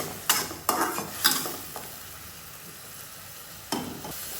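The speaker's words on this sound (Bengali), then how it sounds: "এখন মশলাটাকে খুব ভালোভাবে কষিয়ে নিতে হবে" Spices with chilli and coriander powder being fried and stirred in a pan, a low sizzle under a few quick scraping strokes of a spoon early on and one more later, close and fairly quiet, no speech.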